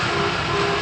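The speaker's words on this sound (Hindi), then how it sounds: "रेलगाड़ी भी आ जाती है और सारा शोर भी आ जाता है" A train rolls past at close range in a steady, loud continuous rumble with a droning hum, filling the short moment without any voices.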